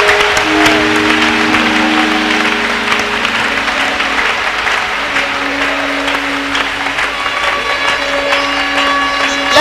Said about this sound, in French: go ahead and give Jesus a big clap of hands